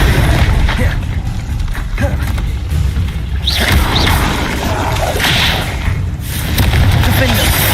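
Bombarda spell explosions in Hogwarts Legacy, a string of sharp whip-like cracks and booming blasts with swooshes between them, loud and near, while a voice calls out over the combat.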